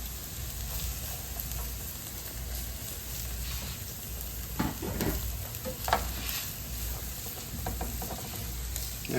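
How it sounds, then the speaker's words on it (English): Oil sizzles softly in a pan while cooking for chicken enchiladas, a faint, steady hiss with a few brief crackles and stirring sounds, no talking. "Just a barely sizzle."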